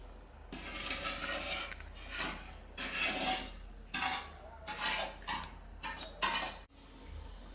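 Spiced masala tossed into churumuri puffed rice in a metal bowl, with repeated scraping, rattling and stirring strokes in bursts, close and fairly loud, no talking.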